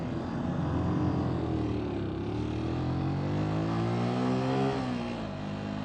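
A Keeway Superlight 125 SE motorcycle, a restricted 125 cc bike, revs hard and accelerates in a steady, loud engine drone whose pitch climbs and dips, with no talk.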